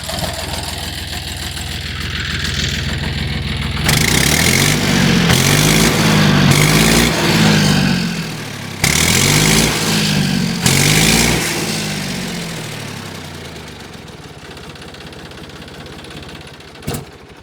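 A John Deere 5103 diesel tractor engine chugs steadily nearby, then revs louder in two surges before settling back to a rumbling idle.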